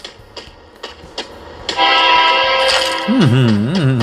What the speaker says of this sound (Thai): เสียงแต่รถไฟนี่